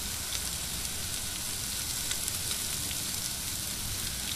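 Onions hit a hot Blackstone 22-inch griddle and sizzle in an even, hissing wash with faint crackles, close and continuous with no talk.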